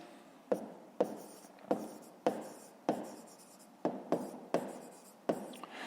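A pen writes in a notebook during a fifth-grade maths exercise, producing a steady series of about ten quick scratchy strokes, close-up and soft, evenly paced with no talking.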